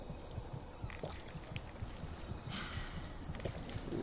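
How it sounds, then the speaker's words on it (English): Water runs from a source in Fallout 4 while a character takes a drink, a soft continuous trickling pour with faint rhythmic gulping pulses, close but quiet. "Guess I'll get a quick drink instead of using my own water."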